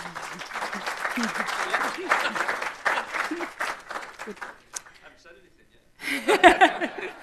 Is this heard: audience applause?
yes